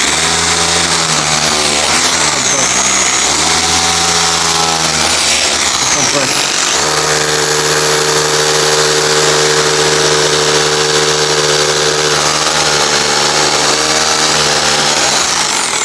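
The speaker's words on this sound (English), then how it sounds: "Obviously we're gonna go with the hammer drill because that's what you should use." A loud Bosch PBH 2000 RE SDS hammer drill bores into brick, running steadily with a grinding, rattling whine, pausing briefly then resuming at a higher, steady pitch.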